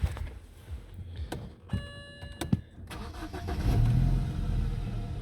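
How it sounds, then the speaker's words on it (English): A BMW 318i with a warning chime pinging cranks and catches, its engine firing up and settling into a steady, close idle. "I'll just start it up."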